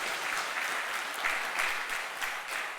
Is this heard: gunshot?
no